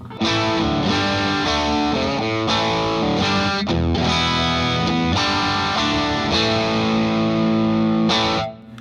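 A distorted electric guitar plays chords and riffs through a 5150 amp, with a buzzy, fizzy, chimey edge to the tone, loud and continuous.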